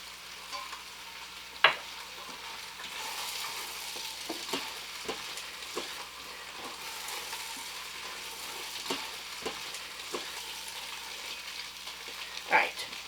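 Beef and diced celery sautéing in an Instant Pot, a quiet continuous sizzle punctuated by scattered spoon clicks and scrapes, with two sharper knocks.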